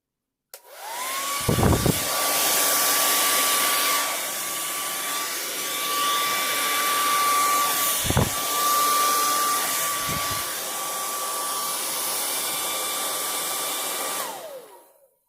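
A hair dryer switches on and blows paint across a canvas in a Dutch pour, a loud steady whine and rushing air lasting over ten seconds with a few thumps while it is handled, then spinning down and stopping.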